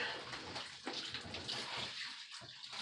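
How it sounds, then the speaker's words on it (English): Water rushing steadily out of a residential hot water tank during a water filter install, a continuous loud hiss and splash that thins briefly toward the end. "We got water coming out of the hot water tank"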